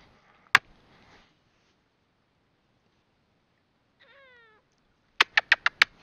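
A pet cat called Tigger gives a short rising meow among sparse quiet taps and knocks, then a fast burst of five sharp clicks ends the moment, all soft and close.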